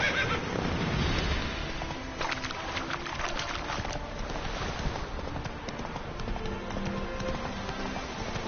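Roach, Geralt's horse in The Witcher 3: Blood and Wine, lets out a loud whinny at the start, followed by steady clip-clopping hooves and faint birdsong in the game's outdoor scene.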